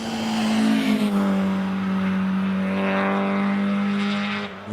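Peugeot hillclimb race car driving the course at Doune, a sustained engine drone heard at a distance, steady and moderately loud with a slight pitch change early on.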